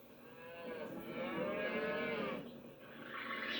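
Cattle being rounded up for slaughter give long, drawn-out moos that rise and fall. The calls are fairly faint and distant, and no voices are heard.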